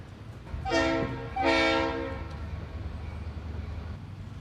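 Two short, bright model train whistle toots, one after the other, each holding a steady harmonic tone for about half a second over a low rumbling hum.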